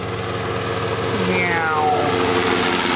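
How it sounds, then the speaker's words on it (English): A helicopter passes overhead as a steady low rotor and engine drone fills the background, with a brief rising chirp part way through. "I'm being interrupted by a helicopter."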